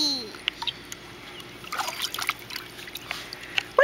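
A child splashes water in a tub or basin, with light irregular trickles and small splatters close by, under quiet ambient noise.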